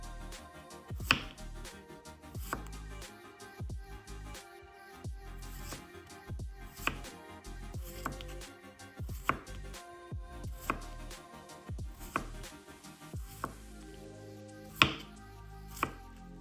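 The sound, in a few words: knife chopping vegetables for sardine salad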